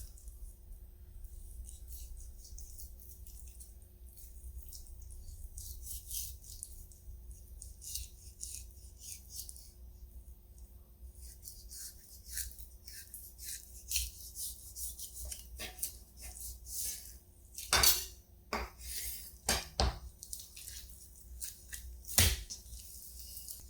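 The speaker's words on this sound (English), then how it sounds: "I'm just gonna do my best to follow the curves of the bone around with my knife and try to cut the meat as close to it as I can" A knife works along the bone of a Boston butt pork shoulder, slicing the meat away. Quiet, close scraping and rubbing strokes continue throughout and grow into sharper, louder cuts near the end, with no talking.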